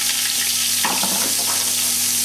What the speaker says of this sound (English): We have our diced onion, we have our pureed garlic, they're going into the pan. We want to sweat them off for a minute or two.